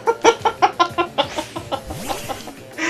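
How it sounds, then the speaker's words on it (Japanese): A crow Pokémon cries in Pokémon Legends: Arceus, a loud run of about eight rhythmic squawking calls followed by softer calls and a rising sweep, with no talk. "なんで突然カラス入ってきたんだ"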